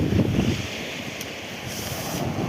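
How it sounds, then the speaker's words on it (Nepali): Strong wind on an Adelaide beach roars and buffets against the microphone in heavy low gusts, loudest at first and then steadier, over a broad wash of surf, with no voices. "अनि हावा चाहिँ डेन्जर चलिरहेको एकदम"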